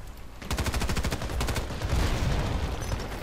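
Rapid automatic bursts from a SCAR-L rifle in the online shooter Battlefield Play4Free on the Karkand map, a loud, tight string of shots followed by continuing heavy battlefield gunfire.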